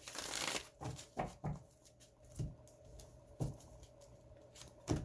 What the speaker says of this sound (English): let's get shuffled up for February.